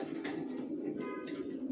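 Racer pigeons cooing in a home loft, a soft, low, continuous murmur of coos heard faintly at a distance, with a few brief brighter sounds over it.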